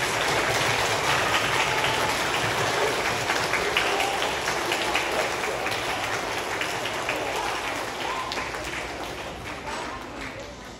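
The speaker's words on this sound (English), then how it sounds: "One more round of applause." Audience applause for recipients of a school Music Master Award, a dense steady clatter of clapping hands that holds through the clip and slowly thins toward the end.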